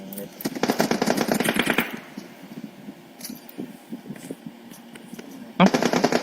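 Rapid bursts of automatic gunfire from the PUBG Mobile battle royale game crackle loudly for the first two seconds, fade to quieter scattered shots, then return in a sharp burst near the end.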